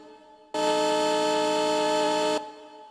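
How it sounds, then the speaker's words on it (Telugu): Horn 2 of a train in the RG Train-Tech Demo mobile game: a single loud, steady multi-tone horn blast lasting about two seconds, starting and stopping abruptly over a faint background hum. "హార్న్ 1 హార్న్ 2 కొత్తగా యాడ్ చేశారు బ్రో"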